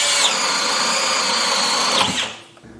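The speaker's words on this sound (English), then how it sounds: "my favorite compact drill in this category is the Milwaukee 3601" A Milwaukee 3601 compact cordless drill on the M18 battery platform whirs at a steady high pitch, close and loud, running continuously before spinning down and stopping near the end.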